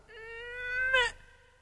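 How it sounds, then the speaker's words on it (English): A single drawn-out meow from a cat, close and clear, rising then breaking off at the end, with no talking. "Are you trying to meow?"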